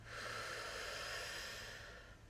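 One long, slow, audible breath drawn during a guided meditation session: a soft, airy rush that swells, holds steady for about two seconds, then fades, close to the microphone.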